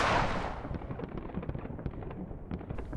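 A single loud gunshot from a rifle in The Trenches, a World War I shooter on the GoldSource engine, bursting up front and then fading into a rumbling tail with scattered distant crackle.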